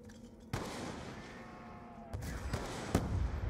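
A grenade goes off in Call of Duty Black Ops 2 Zombies on the TranZit map, a sharp burst followed by several further booming cracks and a rumbling tail, moderately quiet overall.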